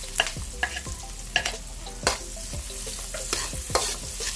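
Garlic fries in a pan for spare ribs caldereta, with a steady close sizzle punctuated by repeated sharp clinks and scrapes of a utensil stirring against the pan.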